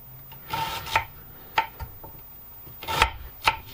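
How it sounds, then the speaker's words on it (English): A knife chops an onion on a board while cooking aboard a narrowboat, giving a few separate dull, scraping cuts at an uneven pace, close and clear with no talk. "let's chop the old onion up"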